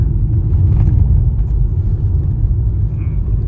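A car rumbles steadily while driving zigzag over a potholed road on a winter road trip near Jim Corbett, with a continuous loud low engine and road drone and no clear talk.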